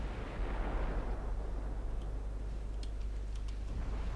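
Torpedo hit on a warship in the naval game Ultimate Admiral Dreadnoughts, a deep rumbling boom that swells early and fades into a low roar, with faint ticking above.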